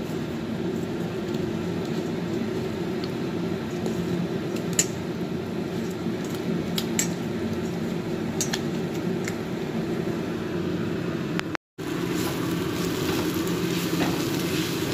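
Water spinach greens fry in a pan with a constant moderate sizzle, steady throughout apart from a brief dropout near the end, with no one speaking.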